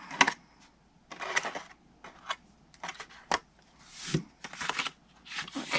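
Scissors snip card stock along score lines for a Halloween window box, a run of short crisp cuts in uneven bursts with pauses between, close and dry.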